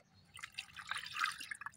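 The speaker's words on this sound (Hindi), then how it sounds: "अब हम इसको छानेंगे इस तरह से, बिल्कुल आपको साफ़ सुथरा करके डालना है" A neem leaf plant tonic is strained into a 4-litre bucket, with soft, quick irregular drips and trickles close by over a low background hum.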